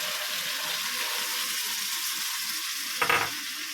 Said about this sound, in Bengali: আমি যে সসটা রেডি করে রেখেছিলাম আমি দিয়ে দিচ্ছি। তার সঙ্গে জল দিয়ে দিচ্ছি।